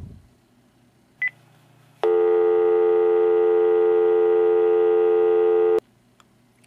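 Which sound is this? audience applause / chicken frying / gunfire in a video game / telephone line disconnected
telephone line disconnected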